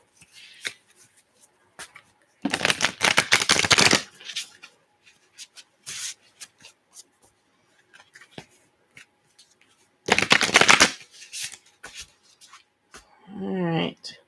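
Two loud bursts of riffled playing cards as a deck is shuffled, separated by quieter handling and small taps, with a brief voice near the end.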